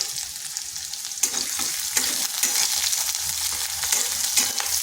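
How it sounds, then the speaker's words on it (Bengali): Chopped garlic, onion and green chili frying lightly in oil for a kakrol dish, a bright continuous sizzle that swells when stirred, close and fairly loud. "এগুলোকে হালকা একটু ভেজে নিচ্ছি।"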